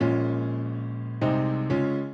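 Maverick piano sample library for Kontakt played dry with no effects: a sustained chord rings and decays, then two more chords are struck at a steady pace, close and clear, with no voices.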